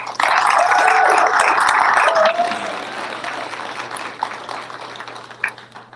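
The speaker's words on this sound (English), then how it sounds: "I just wanted to give them another round of applause because they did a fantastic job" Sustained applause from an audience at a National Grange honors night for the Grange team, loud and steady for about two seconds before thinning into scattered clapping.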